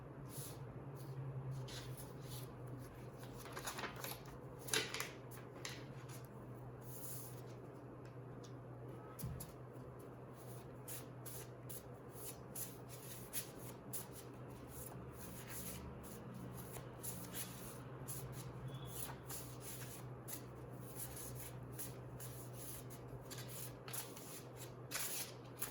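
Tarot cards shuffled by hand, faint continuous riffling and soft flicking over a low background hum, close and quiet throughout.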